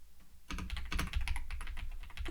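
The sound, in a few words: computer keyboard typing, pressing Enter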